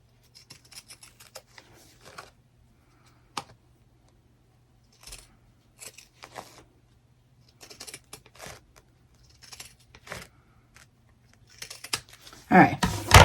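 Scissors snip through fabric for a shabby heart stuffie in irregular bursts of crisp cutting strokes, close and fairly quiet, with a louder rustle of handling at the very end.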